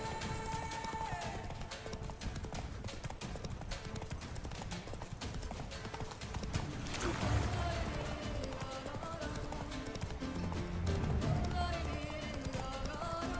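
Roach the horse gallops in The Witcher 3, a quick rhythmic clip-clop of hooves running throughout over game music and ambient effects.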